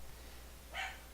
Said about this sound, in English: He's still in the background barking.